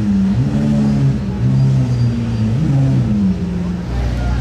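A Ferrari SF90 supercar fitted with an aftermarket exhaust revs nearby on a Monaco street, its engine note climbing and falling in a few pitch sweeps, loud and close, while someone talks over it.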